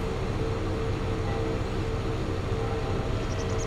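A train passing outside in Farming Simulator 22, a continuous low rumbling roar holding steady at a constant level throughout.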